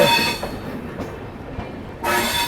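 A train rumbles and rattles steadily along the tracks with faint wheel clatter as it arrives at Ghaziabad railway station, the sound dipping briefly before swelling again, no voices.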